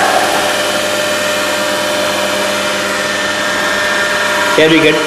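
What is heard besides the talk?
DC motor running at about 1200 rpm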